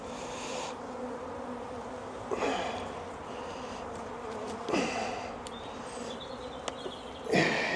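Bees buzzing around an open hive during a colony split, a continuous close swarm drone with a few louder passes as individual bees fly near.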